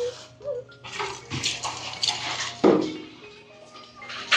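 Water drawn and poured with a bucket, splashing and sloshing in irregular bursts with a few hollow clinks of the container, heard close and moderately quiet.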